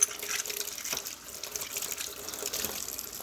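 Old, dirty 90% silver quarters are rinsed under running water, a soft steady splashing stream with faint clinks, quiet and without voices.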